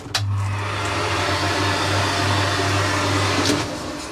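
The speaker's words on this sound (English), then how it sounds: "It's a hairdryer." A hair dryer runs steadily at close range in a ferry cabin bathroom, a continuous whooshing hum with a low motor drone, then switches off near the end.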